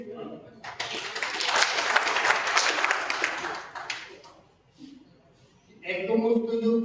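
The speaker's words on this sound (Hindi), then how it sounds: "एक बार तालियां बजाइए।" Listeners at a school Holi poetry recital break into a burst of applause that swells, holds for a few seconds and fades. A performer's voice then returns, speaking or reciting close and clear.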